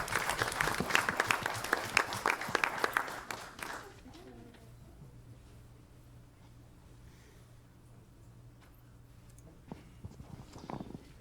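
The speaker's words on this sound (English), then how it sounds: "Can we get another round of applause for them and what they do for our community?" Audience applause at an Alvin ISD school board meeting, a dense burst of clapping for about four seconds that quickly dies away into quiet room tone with a few faint scattered claps.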